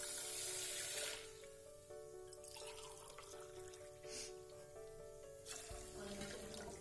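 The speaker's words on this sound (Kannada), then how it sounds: "1/2 ಪಾವ್ ಹೆಸರುಬೇಳೆಗೆ ನಾನು 2 ಪಾವಷ್ಟು ನೀರನ್ನ ಹಾಕೊಳ್ತಾ ಇದ್ದೀನಿ" Water pours from a vessel onto split moong dal in a pot, a soft, close splashing stream that starts strong, eases into a gentler trickle, then surges again at the end.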